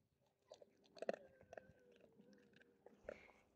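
A dog chews and eats food at close range, with soft wet chomps and a few sharper bites clustered in short bursts, quiet overall.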